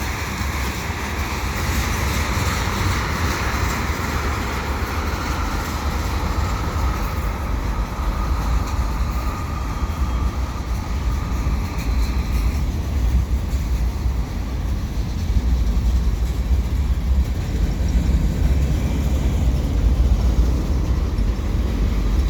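A CN freight train with bathtub gondola cars rolls past steadily and close, a continuous loud rumble of wheels and clanking cars over rail joints that holds for the whole stretch without a break.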